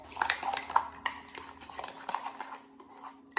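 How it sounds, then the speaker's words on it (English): A utensil clinks and scrapes against a ceramic mug in quick, uneven strokes, mixing lemon cake batter close by, with the stirring trailing off near the end. "all I'm going to do is just mix this until all of my ingredients are incorporated"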